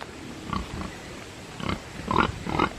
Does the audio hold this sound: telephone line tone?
no